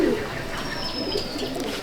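Pigeons coo in a loft, a soft, steady murmur of several birds close by with a faint high whistle drifting over the top.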